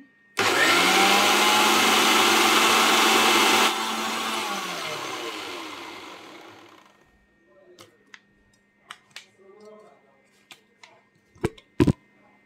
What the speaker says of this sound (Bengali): এবার আমি এটা ব্লেন্ডারে ব্লেন্ড করে নিব।